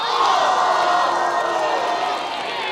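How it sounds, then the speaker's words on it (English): A large crowd of spectators at a Quidditch match yells and groans together in one sustained, loud wall of mixed voices that slowly eases off without breaking. "The whole crowd yells"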